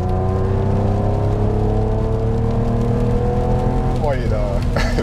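A BMW 850CSi engine running with a deep, steady tonal drone and layered harmonics, loud and close, with the pitch shifting near the end as the revs change.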